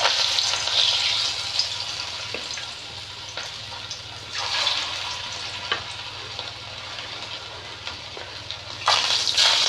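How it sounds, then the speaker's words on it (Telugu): Chicken pakodi pieces, marinated in masala, fry in hot oil with a steady close crackling sizzle, swelling into louder bursts as the pieces are stirred or turned. "ఇప్పుడు చికెన్ పకోడీ వేస్తున్నా"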